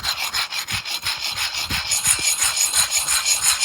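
Worn motorbike brake pads from a supercharged postie bike are rubbed clean by hand, giving a close, rhythmic scraping rub of about eight even back-and-forth strokes with no talking.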